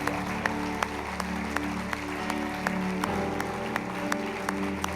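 A church congregation applauds together during a worship service, a steady wash of clapping with sharper individual claps popping through over sustained music or organ tones.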